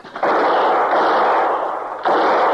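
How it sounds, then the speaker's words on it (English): Gunfire at night aimed at a cougar comes as a loud, harsh blast of noise that rings on, then a second burst hits about two seconds later, close and with no talking. "you're wasting bullets, Steve."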